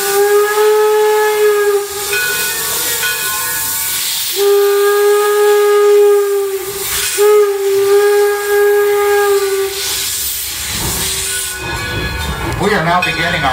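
A steam train at a historic village sounds its whistle in several long, loud blasts with short gaps, accompanied by hissing steam bursts and rail noise, with some talk mixed in.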